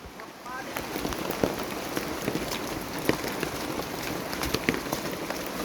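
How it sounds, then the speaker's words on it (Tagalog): Steady rain patters densely on a mountain, with scattered louder drops standing out over a continuous hiss; a voice is faintly present at times. "Naabot na kami ng ulan."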